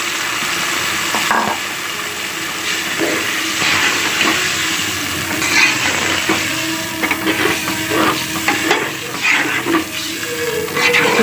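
Garlic, ginger, green chillies and ground onion hit lightly browned onion in a pan and fry loudly, with continuous hissing sizzle and stirring scrapes close by.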